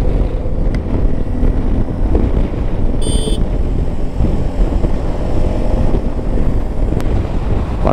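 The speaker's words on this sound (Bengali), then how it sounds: "বাতাস প্রচুর" Strong wind buffets the microphone of a motorbike ridden on the road from Manali toward Pathankot, a steady loud rushing roar across the whole stretch with no speech.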